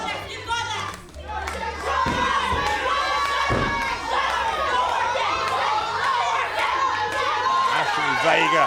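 A wrestling arena crowd roars and shouts in a dense, loud wall of cheering, with a commentator talking over the noise.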